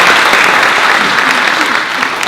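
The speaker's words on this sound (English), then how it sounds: "Give her a round of applause for that" Loud, dense applause from the audience at a San Jose Japantown book launch, honouring Kay Nagareda with a continuous roar of many hands clapping close by.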